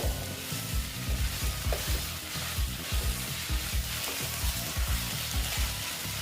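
Bitter gourd, potato and pumpkin fry dry in a pan, a loud close sizzle with a steady run of rhythmic scraping and tapping strokes as the vegetables are tossed and stirred.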